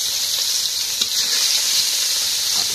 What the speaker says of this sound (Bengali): মাছ ভাজি করতেছি।